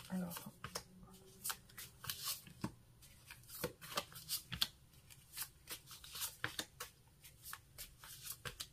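Tarot cards shuffled by hand for a reading, a quiet, close series of soft riffling and flicking bursts in an irregular rhythm, with a faint voice speaking underneath.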